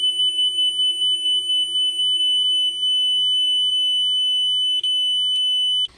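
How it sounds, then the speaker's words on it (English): Loud, steady high-pitched electronic startup beeping from a Kokoni EC1 3D printer, like a smoke alarm, a rapid pulsing pattern at first that settles into a continuous tone before cutting off. "the beeps this printer makes during startup can be very loud"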